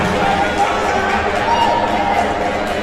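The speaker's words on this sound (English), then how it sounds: "Not to mention the rigorous cheering from the USN student section." Dense, steady student-section crowd noise at a high-school homecoming basketball game, with cheering and chatter filling the whole stretch at a loud, even level and no single voice standing out.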